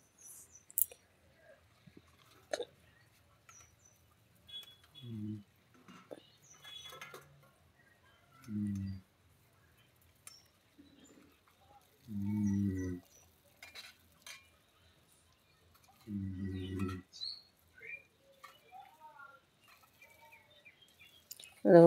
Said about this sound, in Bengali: সাবানের কৌটো গোছ করে ধুয়ে দিলাম, দিয়ে এবার বাসন কটা ধুয়ে নিয়ে চলে আসবো।